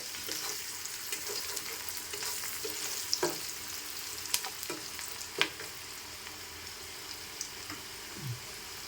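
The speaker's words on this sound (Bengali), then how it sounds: "পেঁয়াজটাও ভালো ভাজা হবে" Steady sizzling of salted onions frying in hot oil, with occasional clicks and scrapes of stirring, close by and moderately loud, no voices.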